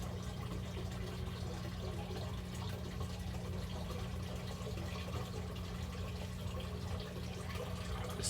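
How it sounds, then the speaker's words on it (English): Water drains steadily from a hydroponic flood and drain tank, a faint continuous trickling and gurgling hiss with a low hum underneath, unchanging throughout. "This tank is draining now."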